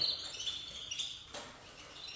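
A Fife canary gives light, high chirps and short tweets, scattered and fairly faint, in a quiet indoor setting without talk.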